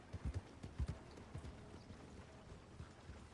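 Horse hooves clip-clopping in Red Dead Redemption 2 Online, a quiet uneven series of close hoof strikes, heavier at first and then thinning out, with no talk over them.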